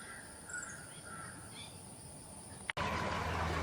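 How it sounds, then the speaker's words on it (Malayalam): A Malabar parakeet, the blue-winged parakeet, gives several short, shrill calls in a quick series over steady background hiss. The calls are fairly faint and stop abruptly before a burst of rougher noise. "ബ്ലൂ വിങ്ഡ് പാരക്കിറ്റ് അല്ലെങ്കിൽ മലബാർ പാരക്കിറ്റ് എന്ന് വിളിക്കപ്പെടുന്ന ഈ തത്തകൾ"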